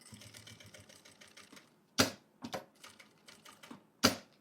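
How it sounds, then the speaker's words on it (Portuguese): Sewing machine stitching ribbon trim onto a fabric cover, quiet rapid needle clatter in short bursts separated by a few sharp louder clunks, close and without talk. "Nas curvinhas, vai costurando mais devagarzinho, diminui a velocidade para que você possa ter um acabamento final da sua peça perfeito"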